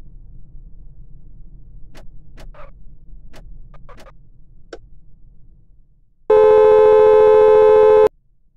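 A soft ticking or clicking pattern over quiet hum, then a loud steady electronic ring tone lasting about two seconds from a phone inside a taxi in a driving simulator game set in India at night.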